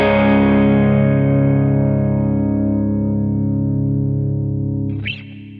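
A distorted electric guitar in drop tuning strikes one wide chord across all six strings and lets it ring, thick and sustained and loud, before a short scrape of noise near the end.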